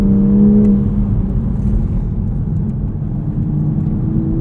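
A 2023 Toyota GR Supra 3.0 with manual transmission, engine droning steadily from inside the cabin while driving. The loud, even tone holds a low steady pitch with slight rises, and no one speaks.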